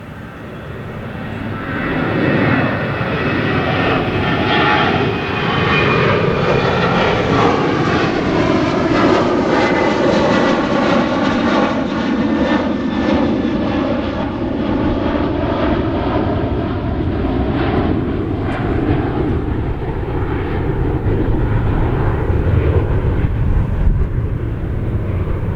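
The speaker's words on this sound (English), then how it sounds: "Got another plane flying over" An airplane passes overhead, a loud, steady engine roar that swells and shifts in pitch as it crosses for over twenty seconds, with no talking.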